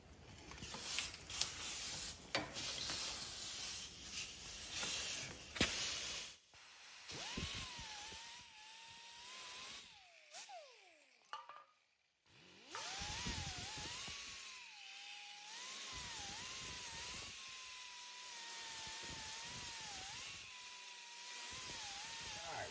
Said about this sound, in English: We're going to file these down just a little bit and kind of put a taper on them